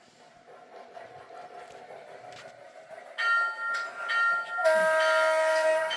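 A model train horn sounds two sustained, bright tones, faint at first and then louder.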